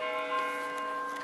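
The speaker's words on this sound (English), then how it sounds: "And the church bells are ringing." Church bells ring in Trinidad, Colorado on a snowy Sunday morning, a sustained, ringing metallic tone with layered overtones that holds evenly through a short moment, fairly loud and with no voices.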